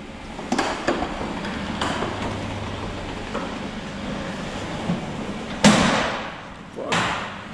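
Large electric doors being opened, giving a few scattered thuds and knocks with two sharp, loud bangs near the end over a low mechanical hum, close by.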